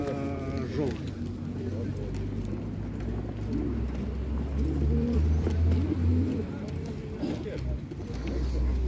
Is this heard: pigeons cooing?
yes